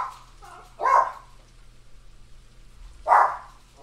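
A dog barks twice during a Phasmophobia ghost hunt, two short loud barks spaced about two seconds apart over a low steady hum.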